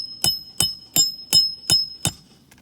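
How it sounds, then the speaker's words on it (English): Six sharp hammer strikes drive nails into roof shingles at a steady, even pace, each a close, hard knock with a faint metallic ring. "Now you can see with each hammer blow, these shingles are pretty much just raining granules down."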